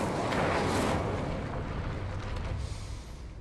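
An Incendio fire spell cast in the video game Hogwarts Legacy bursts out as a dense, roaring whoosh of flame, loud and sustained for a few seconds before easing off slightly at the end.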